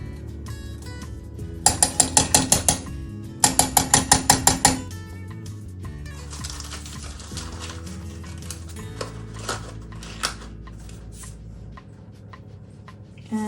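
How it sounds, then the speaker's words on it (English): Whisk clinking against a bowl while sugar and cornstarch are stirred together for vegan, gluten-free blueberry lemon scones, with two quick bursts of rapid rhythmic metallic taps near the start, then softer scattered scraping and clinks. "Whisk them together, so I'm just going to stir them together."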